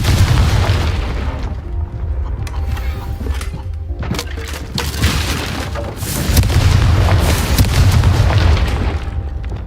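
Confringo fire spell in Hogwarts Legacy, a loud booming blast with rumbling low end and crackling bursts, repeated impacts over sustained noisy battle sound, no talk.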